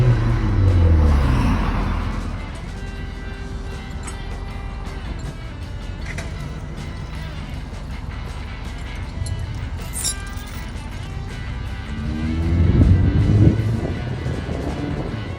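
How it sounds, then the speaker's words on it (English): A GMC truck flat-towing a 1966 Buick Wildcat with a failed fuel pump gives a steady rumble of road and engine noise, with wind buffeting the microphone and occasional light clinks, and no one talking. "So here we go on a flat tow."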